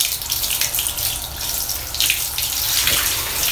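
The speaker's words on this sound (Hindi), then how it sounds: "पानी डालना है इस पे, जो इसको बिल्कुल पसंद नहीं है" Water pours steadily from a tap during a pet cat's bath, a continuous broadband splashing and running flow close by, with no talk over it.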